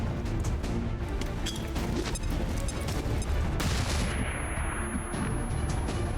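A flashbang grenade detonates in the game XCOM 2, a loud dense burst of blast and crackling noise filling the scene, dropping into a softer rumbling tail after a few seconds.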